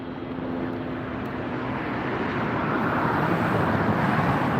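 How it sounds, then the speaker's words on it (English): A United Airlines Boeing 787-9 Dreamliner arriving at LAX from Hong Kong, a broad continuous jet roar that stays loud and steady, with wind buffeting the microphone. "Coming in from Hong Kong, a 787-9 Dreamliner."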